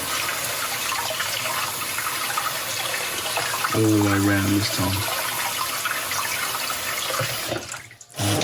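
Cold water pours over a scored glass bottle, a steady running-tap wash with a brief louder splash midway, close and continuous, a voice speaking over it.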